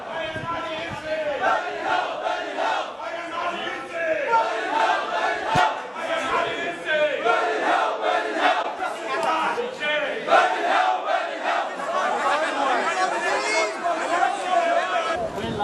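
A rioting crowd in Australia shouts and chants during clashes with police, many loud overlapping voices yelling and cheering in a continuous, chaotic wall of noise with sharper outbursts rising and falling throughout.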